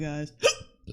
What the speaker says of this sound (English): No, it's hiccups.